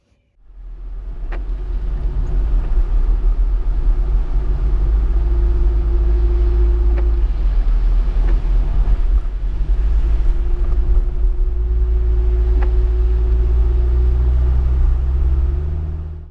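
A Mazda Bongo van driving through heavy rain on a Scottish road, with a steady loud engine and road rumble and a constant wash of rain and spray throughout, no talk.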